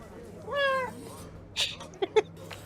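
A cat gives one clear, close meow near the start, followed by a few soft clicks and short bumps in an otherwise quiet room.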